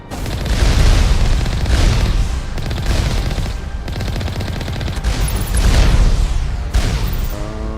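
Video game gunfire from Mass Effect: loud, dense bursts of shots and booming explosions hammer through continuously, with heavy low rumble and sharp cracks overlapping for the whole stretch.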